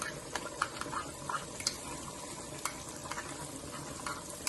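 Spice paste thinned with water poured into a restaurant-style desi chicken karahi, oil sizzling steadily with scraping stirs and small clinks, close and fairly quiet.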